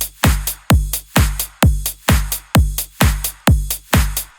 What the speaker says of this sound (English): Then on every second kick, a clap. Between every kick, a hi-hat.